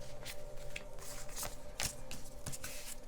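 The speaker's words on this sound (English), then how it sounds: "I keep shuffling for a while." A deck of tarot cards being shuffled by hand, with repeated soft riffling and sliding bursts close by in a quiet room, no talking.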